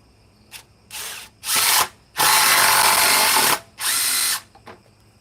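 Ryobi power drill driving a screw, several short bursts of loud close whirring that start and stop, the longest run lasting over a second, separated by quiet gaps.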